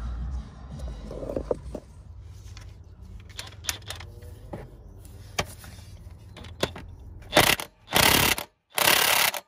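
A ratchet works at a left-handed crankshaft bolt during an oil seal replacement: scattered metallic clicks and knocks over low background rumble, then several loud rapid ratcheting bursts close by near the end, with no talk.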